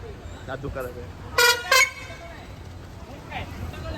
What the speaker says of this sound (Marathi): परत एकदा छान असा हॉर्न मारलाय